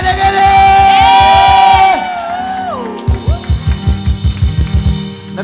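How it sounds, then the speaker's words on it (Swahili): A congregation at a Sunday family church service in Kenya cheers with high, wavering ululations over a loud, rhythmic pounding beat. There is a brief pause before the steady thumping resumes with crowd noise. "Changwe na vigelegele."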